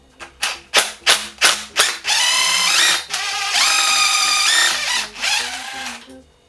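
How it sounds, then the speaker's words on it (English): An impact wrench fitted with an 8mm Allen key hammers at a fork bottom bolt: several sharp separate rattling bursts, then longer sustained whirring runs. Loud and close, with no talk. "I've got the 8mm Allen key on my rattle gun, and we're going to see if this works"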